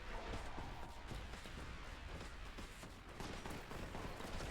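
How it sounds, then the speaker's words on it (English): Dense, continuous gunfire from the video game Warhammer 40,000: Boltgun, a steady loud barrage of overlapping shots and impacts with no clear gaps between them. "I'm hearing gunshots."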